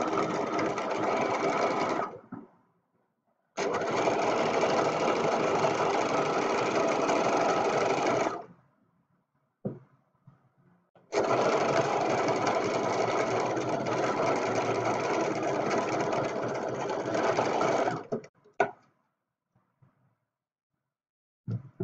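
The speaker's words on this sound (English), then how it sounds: "I'm going to zigzag stitch because I don't have an overlocker at home." A domestic sewing machine zigzag-stitches fabric while sewing sleeves to a garment back, running in three long steady bursts separated by short pauses, with a few faint handling clicks between runs.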